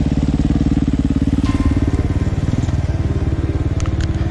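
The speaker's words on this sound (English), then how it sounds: "Don't use throttle, brake, nothing. Just roll. Let the bike do it." A motorcycle rolls down a dirt track off the throttle and brakes, its engine burbling in a steady, rapid pulse, loud and close throughout with no talking.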